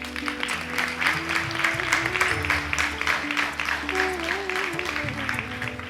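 An audience at a devotional Hindi discourse claps continuously, a dense patter of many hands under a voice speaking and chanting over it.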